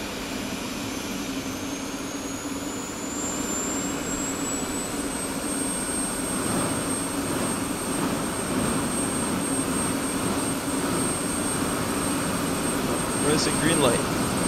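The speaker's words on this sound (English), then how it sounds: "we'll go ahead and start the jet fuel starter" F-16 jet fuel starter and engine spooling up in the DCS flight simulator: a steady turbine roar with a rising whine that climbs over several seconds and then holds, continuous and close.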